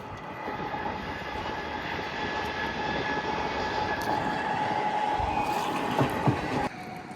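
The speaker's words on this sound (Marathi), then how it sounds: "ट्रेन बघतोय समोर." A train passes close by a coastal mud-crab hunting spot, a loud, steady rumble that runs unbroken through the whole stretch, with no voices over it.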